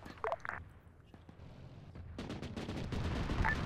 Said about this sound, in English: We are taking fire from the forest southwest of us.